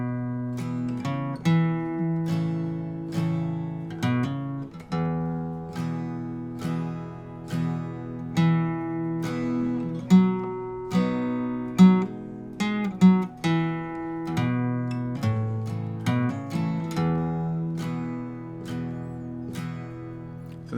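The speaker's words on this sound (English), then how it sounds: "I'm going to the G bass note, sneaking in a strum, hammering on, sneaking in a strum, and then going to the D" Acoustic guitar in standard tuning playing a song's pattern, moving from a G bass note to a D with quick strums and hammer-ons in a steady, even rhythm, clear and close with no talking.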